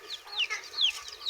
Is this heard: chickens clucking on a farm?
yes